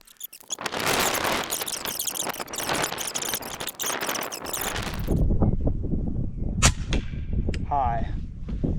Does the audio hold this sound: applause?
no